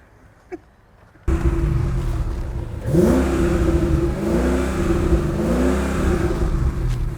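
A broken Mercedes AMG engine with a supercharger fires up suddenly after near silence. It then gives a series of loud, close revs that rise and fall, with a whining blower tone sweeping along with each rev.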